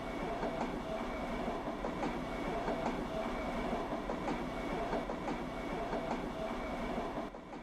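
A Seoul subway train running, heard from inside the car as a steady, loud rumble with rhythmic rail clatter and a constant hum throughout, dropping slightly at the very end; no one speaks.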